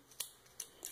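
Scissors snipping cotton crochet yarn (barbante no. 8), three quick crisp cuts in under a second, close and quiet with no talking.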